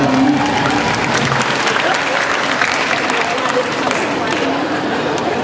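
A concert crowd at Gandaria City applauds a live band, producing loud, continuous, dense clapping that stays steady throughout with no breaks.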